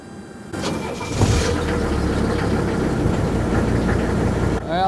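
A Mercedes W126 300SD diesel engine cranks briefly, fires quickly, and settles into a loud, rough, clattering idle with heavy vibration, close to the listener.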